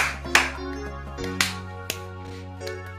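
A few sharp hand claps ring out one after another, loud and close, a quick irregular pattern over a sustained musical tone.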